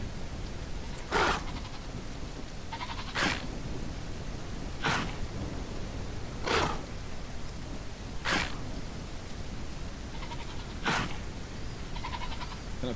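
A goat in The Isle: Evrima video game bleats six times at regular intervals, each cry short and fairly loud over a steady background wash.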